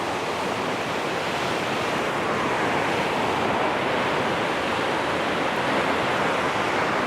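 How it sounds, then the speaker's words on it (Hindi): The Alaknanda river at Badrinath surges past near the Tapt Kund hot spring, a loud, unbroken roar of rushing water that fills the whole stretch with no voices. "और यहाँ से मेरे पीछे देखिए अलकनंदा रिवर का फ्लो कितना विकराल रूप धारण कर लेती है।"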